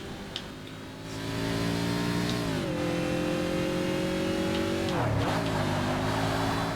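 A racing car in the Forza Motorsport video game accelerates from a start. The engine rises to a loud, steady, sustained drone, and its pitch drops briefly at each gear change before climbing again.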